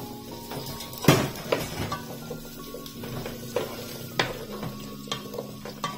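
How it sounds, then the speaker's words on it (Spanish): Chayote frying in lard in a pan while cooking mole rojo with pork, with a steady sizzle, sharp utensil scrapes and clinks as it is stirred, and no voices. "Ahora le vamos a agregar manteca para freír nuestro chayote"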